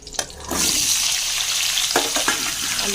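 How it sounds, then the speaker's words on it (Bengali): Potato pieces dropped into hot oil after cauliflower, frying with a loud, steady sizzle that starts after a brief clatter and continues alone throughout. "এবার দিয়ে দিলাম আলু"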